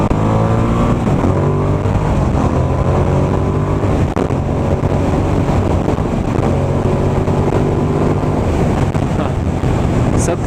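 A Ducati motorcycle engine pulls hard under acceleration while riding, its loud, close drone rising and dipping through the revs beneath constant heavy wind buffeting, with no voices.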